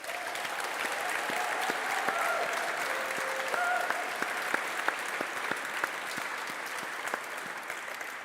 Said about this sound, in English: So please give them and our friends and family a big applause.